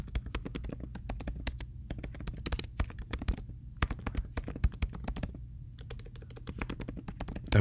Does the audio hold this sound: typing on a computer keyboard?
yes